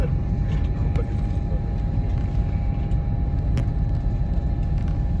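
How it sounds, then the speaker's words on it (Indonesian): Steady low road-traffic rumble heard from inside a car stuck in a heavy holiday-homecoming traffic jam, continuous and moderately loud, with faint voices now and then. "macet banget ya."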